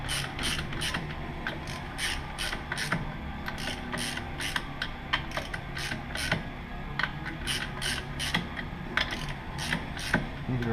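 A ratchet wrench tightens the bolts of a Primo Pro clutch in a crisscross pattern, giving quick runs of crisp mechanical clicks in a steady rhythm, close and moderately quiet, with short pauses between strokes.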